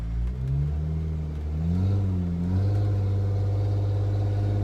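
A Jeep Rubicon in four-wheel drive climbs a wet jungle slope in Mexico, its engine droning in a low, steady hum that rises in pitch as it revs, continuous and fairly close, with no voices.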